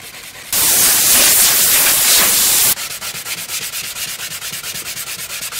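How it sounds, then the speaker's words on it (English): A plastic bumper cover being hand sanded with 220 grit sandpaper, first one long loud continuous rasping stroke, then a fast even run of shorter back-and-forth scrubbing strokes, close and alone. "I don't have any more coarse sandpaper in my arsenal right now, so I'm gonna have to make this 220 work"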